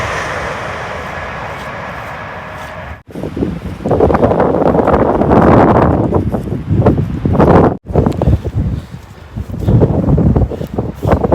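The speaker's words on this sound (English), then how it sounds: "I don't know if you can hear me through the wind." Strong wind buffets the microphone on a countryside footpath in Northumberland, giving loud, gusting roars and rumbles with brief sharp dropouts, and no voice heard.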